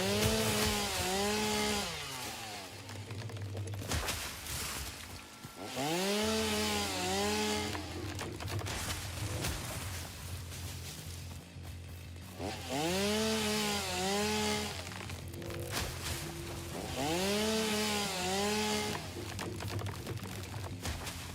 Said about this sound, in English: I don't ever want a chainsaw ever again.